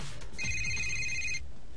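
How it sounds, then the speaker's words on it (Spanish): An incoming phone call rings in the Need for Speed Most Wanted racing game, a single bright electronic ringtone burst lasting about a second over low game background rumble. "mira, una llamada que tengo"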